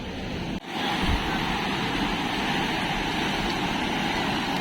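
Water pouring over a dam in a rushing, continuous roar, loud and close, with a brief knock near the start and no other clear sound on top of it.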